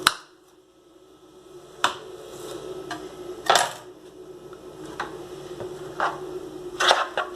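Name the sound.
knife cutting a large garlic clove into four pieces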